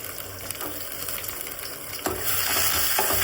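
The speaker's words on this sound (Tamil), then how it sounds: "சின்ன வெங்காயம் போட்டுக்கலாம்." Chopped small onions hit a hot pan in a home kitchen and start sizzling. The frying is quiet at first, then jumps to a louder, steady hiss midway with a few clinks.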